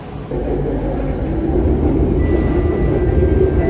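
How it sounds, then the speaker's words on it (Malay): Light rail train at an LRT station, a steady, loud rumble with a rising hum as it runs close by, with no voices. "sekarang kita orang dekat LRT Abdul Hukum"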